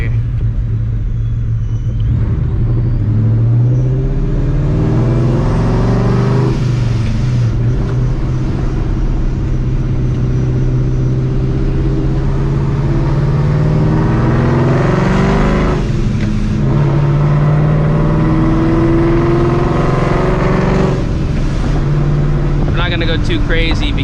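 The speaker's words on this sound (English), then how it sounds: "So we're just gonna cruise the car, get a little POV drive going in" A supercharged 2V Mustang GT cruises on a road in Houston, its engine rumbling loudly and steadily with rising and falling revs as it accelerates and shifts, the deep drone filling the whole stretch.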